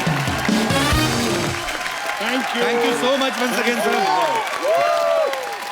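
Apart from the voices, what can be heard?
studio audience applause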